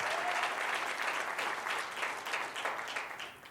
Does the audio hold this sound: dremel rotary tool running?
no